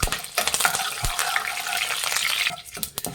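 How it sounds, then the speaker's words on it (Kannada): Chana dal and urad dal fry with mustard seeds in hot oil. A close, loud crackling sizzle runs under repeated stirring scrapes and clatter, and no one speaks. "ಕಡಲೆಬೇಳೆ ಉದ್ದಿನಬೇಳೆ ಇದ್ದೀನಿ ಇದನ್ನು ಫ್ರೈ ಮಾಡಿ"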